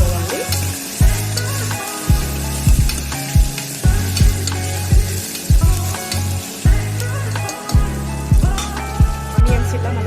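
Onions frying in a pan until browned, a loud continuous sizzle close by, broken by rhythmic clanks and scrapes of a spoon stirring roughly every half second to second.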